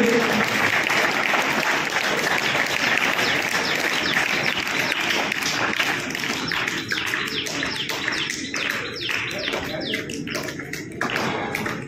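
Loud, sustained audience applause fills a school results ceremony for the CBSE 2023-24 session, dense clapping holding steady for the whole stretch and thinning slightly toward the end, with a few faint bird chirps in the background.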